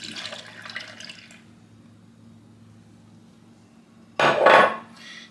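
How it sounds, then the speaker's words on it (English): Milk pours into a pot of chocolate pie filling seasoned with salt, a soft splashing rush at the start and a louder, brief gush near the end over a low steady kitchen hum. "Now we add the milk."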